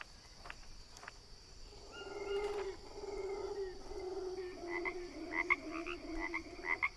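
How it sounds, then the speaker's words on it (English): Deep, rolling roars of howler monkeys in the Green Hell jungle survival game, repeated calls rising from about two seconds on and swelling louder toward the end over a steady insect-like background hum. "Sounds like a howler monkey"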